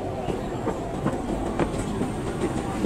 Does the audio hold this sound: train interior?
yes